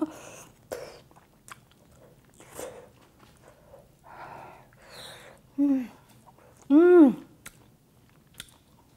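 Someone chewing and tasting a mouthful of Korean-style curry rice, with soft, close mouth sounds and smacks and brief vocal exclamations between bites.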